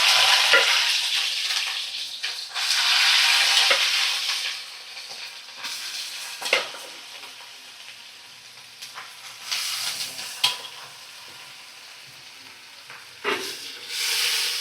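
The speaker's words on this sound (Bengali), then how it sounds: "সিদ্ধ থোড়টা আমি যে এর মধ্যে তেলের মধ্যেই দিয়ে দেব" Boiled banana stem, pressure-cooked beforehand, sizzles and fries in hot oil in a home kitchen, with a loud initial hiss easing to a steady crackle, broken by occasional stirring scrapes and bursts of sizzling.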